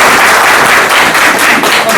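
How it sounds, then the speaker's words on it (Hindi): A crowd at an award felicitation ceremony claps loudly for an honoured guest, close and continuous dense applause filling the whole moment without any speech. "एक बार मैं चाहता हूँ जोरदार तालियां बजाएं"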